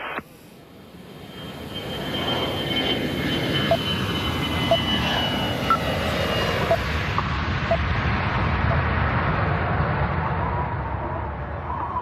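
A passenger airliner cruises at around 32,000 feet on autopilot, heard as a steady, dense low roar that fades in and then holds, with a few faint tonal blips on top.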